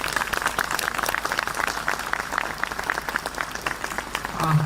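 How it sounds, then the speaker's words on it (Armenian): Applause from the audience at a march rally, many people clapping steadily together in a sustained, even wash of claps with a few voices mixed in. "առաջարկում եմ մի հատ մեր այսօրվա երթին ծափահարենք"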